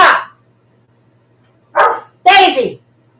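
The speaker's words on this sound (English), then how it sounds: "Dogs!" Dogs bark close by in short bursts, one brief yelp, a pause, then two louder barks in quick succession, over a quiet background hum with speech-like energy mixed in.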